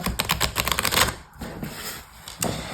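Tarot cards flick and slap in a quick run of crisp paper snaps, followed by a quiet pause and one more shuffle near the end.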